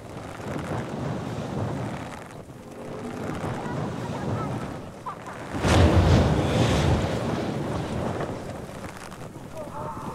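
Wind and ocean waves while sailing in the video game Dying Light 2, a steady broad rush that swells louder partway through, with speech over it.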